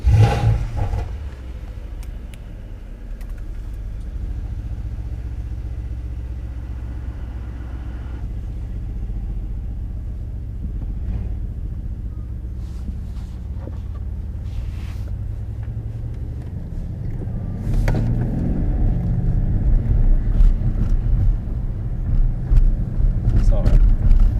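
A deep V8 engine in a 2019 Mercedes-Benz C63 S AMG rumbles steadily while driving on the road, swelling louder as it accelerates near the end, with a voice talking faintly underneath.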